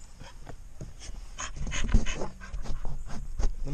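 Close, rapid dog panting in steady rhythmic breaths with a few soft whimpers, heard alone during air travel.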